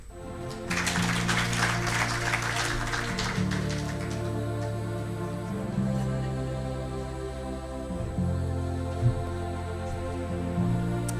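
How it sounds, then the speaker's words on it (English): An audience at a gathering of grant partners applauds a speaker for a few seconds early on, the clapping rising over steady background music that continues after the applause fades. "Can we give Dr. Guyo a round of applause for work well done?"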